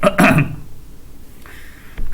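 A single harsh, close cough from a teacher with a strained throat at the start, followed by quiet room tone and a faint short sound near the end.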